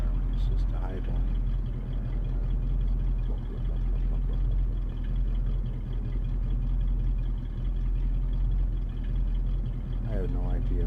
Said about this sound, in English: I like the sound of the car when it's just idling.